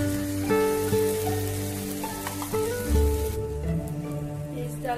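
A blended paste of tomato, cashew and green chili fries in a kadai, a soft, rain-like sizzle with a few clinks, set under steady sustained tonal hums.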